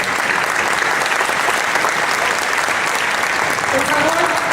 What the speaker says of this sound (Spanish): Por favor, recibamos a nuestros invitados con un fuerte aplauso